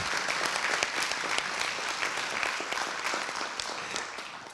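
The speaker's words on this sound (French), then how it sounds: "On peut l'applaudir." Audience applause at a talk on music and learning, a dense, even wash of many hands clapping that holds steady for several seconds before starting to fade, with faint voices underneath.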